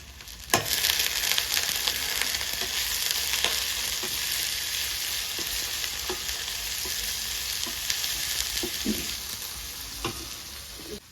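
Chopped onions hit hot oil with browned garlic, setting off a bright, loud sizzle that settles into a steady frying hiss with occasional faint clicks of stirring, heard alone without speech.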